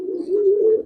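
A single sustained throaty coo from a nearby Giribaz pigeon, steady and fairly loud, rising slightly toward the end, with no one speaking.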